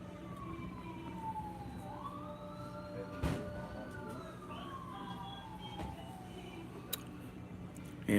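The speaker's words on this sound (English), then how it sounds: "Ambulance." An ambulance siren wails with a rising and falling pitch, steady and moderately distant, over constant low traffic rumble.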